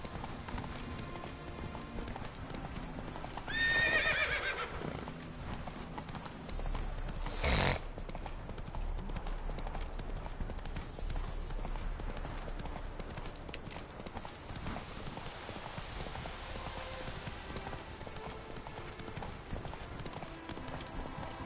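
The horse Roach gallops in The Witcher 3, a steady stream of hoofbeats under ambient game sound, with a snort and a sharp swell of noise breaking in partway through.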